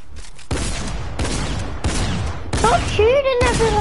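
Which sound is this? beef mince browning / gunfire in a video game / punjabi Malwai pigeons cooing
gunfire in a video game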